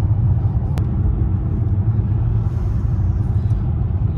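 A car rolls along a road on the way to Oreshek Fortress near St. Petersburg, its steady low engine and tyre rumble loud and close throughout, with one brief sharp click early on.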